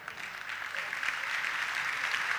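Audience applause at a Turkish folk dance contest: dense, steady clapping from a large crowd that holds evenly and swells slightly toward the end.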